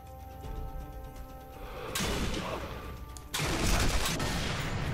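Gunfire in the video game Sniper Elite 3, with a loud crack near two seconds and another heavier burst just after three seconds, both ringing out over a hissy game ambience.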